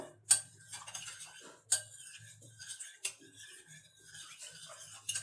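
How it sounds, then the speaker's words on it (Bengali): A spoon stirs sugar in a bowl to dissolve it, making light metallic clinks and scraping taps in an uneven rhythm, close and fairly quiet. "দেখো, চিনি এটাকে ভালো করে গুলে নেব।"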